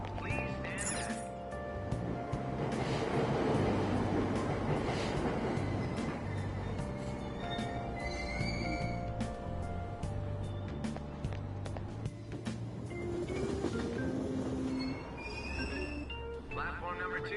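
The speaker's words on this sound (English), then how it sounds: "Train doors are now closing. Please stand back." Subway train in the video game Persona 5 Royal closing its doors and pulling away from a station platform, a loud continuous rumble and rolling rail noise with squeals and clanks under a calm announcer voice.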